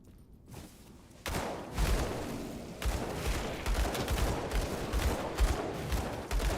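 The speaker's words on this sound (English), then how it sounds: "Using guns and explosive fire" Gunfire and explosive fire in the action role-playing game Grim Dawn: a dense, loud barrage of rapid shots and blasts that starts abruptly and keeps going steadily.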